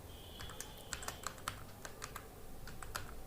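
Computer keyboard typing a folder path, a short burst of irregular, crisp key clicks close up in a quiet room.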